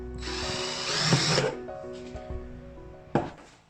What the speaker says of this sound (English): drilling holes at the bottom of the